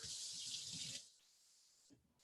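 Water runs from a tap in a steady close hiss for about a second and then stops, leaving near silence, as a little is added to beaten egg while arancini are prepared.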